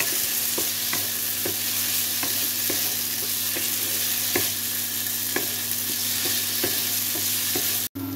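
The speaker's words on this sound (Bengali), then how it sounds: "আলুটাকে একটু লাল লাল করে ভেজে নেব।" Potato pieces fry in a pan toward a reddish colour, a loud continuous sizzle with regular light stirring clicks roughly every half second, and no one speaking.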